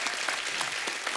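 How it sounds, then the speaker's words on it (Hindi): Applause from a studio audience on a comedy talk show, a dense steady wash of many hands clapping for the whole short stretch, fairly loud and close. "तालियां होनी चाहिए।"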